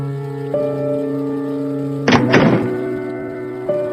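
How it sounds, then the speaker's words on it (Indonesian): A door is forcibly kicked and broken down, a single heavy thunk with a crashing burst in the middle, set against a steady droning background and a lighter knock before and after. "Suara pintu yang didobrak paksa seseorang."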